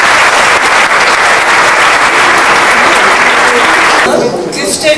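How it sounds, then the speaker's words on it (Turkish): An audience applauds after a Turkish song performance, dense, loud and sustained clapping from a large crowd that fades slightly near the end. "çok alkışlayacağınızı tahmin ettiğim güzel bir yorum zira"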